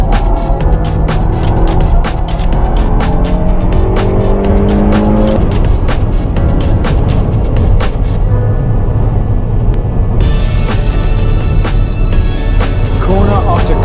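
A stock Peugeot 308 GTi driven hard around the Nürburgring, its engine roaring loudly and continuously through rising gear pulls and shifts, with tire squeal and a sudden drop-out of the sound near the end.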